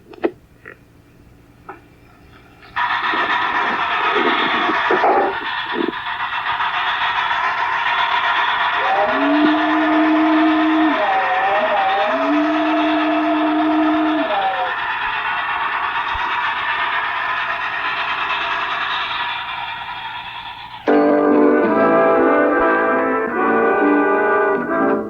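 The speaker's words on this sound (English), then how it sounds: "I'll run an engine and blow the bell while it's going, and maybe it'll sound a little better." A model train engine on John Allen's Gorre & Daphetid model railroad hums steadily with a ringing bell, joined midway by a brief two-tone whistle, before a brighter clattering sound takes over near the end.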